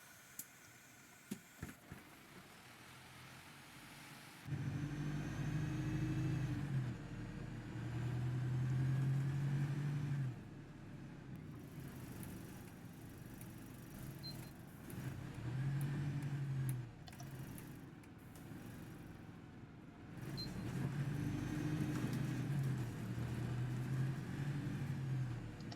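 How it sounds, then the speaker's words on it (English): A Wrights GB Hawk single-decker bus in OMSI 2 drives with its engine droning under load, swelling through several acceleration pulls and easing between them, with a faint whine on top. "It's really, really weird driving a single decker and sort of hearing the street deck sounds."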